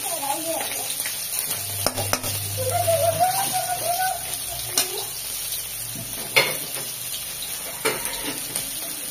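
Steady sizzling of garlic frying in hot oil, crackling close by with occasional stirring clatter, a voice murmuring briefly underneath.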